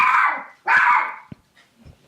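A dog gives two loud, close barks in quick succession, then a few faint scuffs and small noises trail off into quiet.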